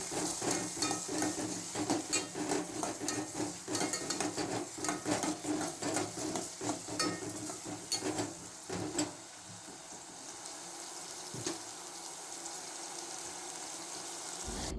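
Chopped onion and tomato frying in oil in a pan: a close sizzle with rapid stirring and scraping strokes for the first half, then a quieter, steady frying hiss, with no talking.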